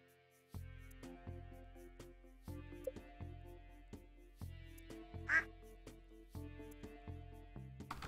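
Cartoonish duck quacks from the farming video game Stardew Valley, a single clear quack standing out over a looping, rhythmic game music track that plays throughout.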